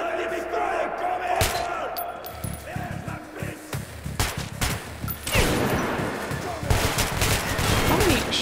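Rapid gunfire in Metro: Last Light Redux, with bursts of automatic shots and single cracks rattling throughout amid shouting enemy voices and battle noise.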